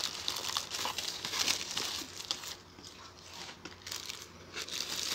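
Packaging for a small portable reciprocating saw crinkles and rustles continuously as the box is opened, faint and close, with no voices.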